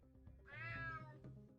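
A cat lets out a single drawn-out meow, clear and close but fairly quiet, rising and then falling in pitch, alone with a few soft background noises.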